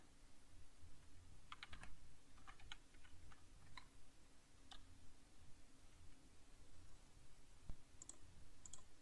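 Computer keyboard keys clicking in short irregular bursts as an exploit command is typed in Kali Linux, close and faint, with pauses between keystrokes and no talking.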